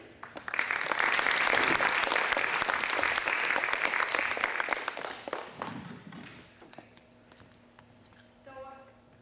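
A workshop audience applauds steadily for several seconds as a speaker is welcomed to the front, the clapping dense and sustained before thinning out into scattered claps and room noise.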